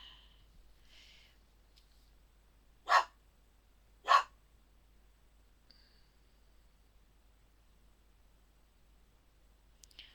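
A dog gives two sharp, loud barks about a second apart in a quiet room, with faint clicks and shuffling before and after.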